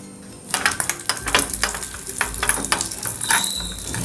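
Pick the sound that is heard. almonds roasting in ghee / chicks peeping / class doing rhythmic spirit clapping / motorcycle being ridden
almonds roasting in ghee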